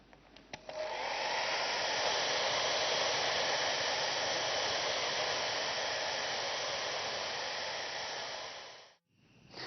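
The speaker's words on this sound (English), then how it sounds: "We now need to dry the message with a hairdryer." A hairdryer blowing on wet filter paper in a fume cupboard, starting with a few clicks then a steady loud airy whoosh held for several seconds before cutting off abruptly and restarting.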